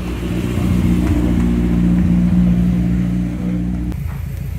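Car engine revving in the start group at a slalom event with BMW cars, a loud, steady mid-pitched engine drone that holds, then drops off abruptly near the end, with no talking.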